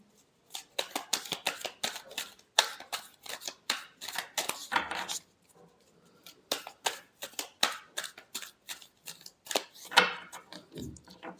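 New, slippery playing cards riffled and bridged repeatedly in bursts of crisp rapid flutters, with a brief pause midway, close and fairly quiet, no talking.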